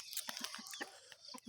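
Pet Shamo crossbreed chickens clucking in a backyard pen, a string of short, faint clucks and squawks in quick uneven bursts, heard alone without talk.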